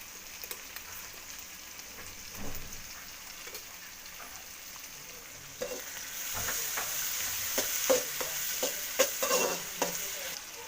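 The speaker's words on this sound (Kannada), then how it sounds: "ಕಾಲು ಸ್ಪೂನು ಶುಂಠಿ ಬೆಳ್ಳುಳ್ಳಿ ಪೇಸ್ಟ್ ಹಾಕ್ಕೋತೀನಿ." Ginger garlic paste frying in a pan, a soft steady hiss that grows louder partway through, with crackling pops and spatters close by.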